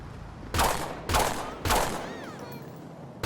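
Three loud gunshot bursts fired in GTA 5, spaced about half a second apart, each with a sharp onset and a decaying tail, followed by fading ringing echoes.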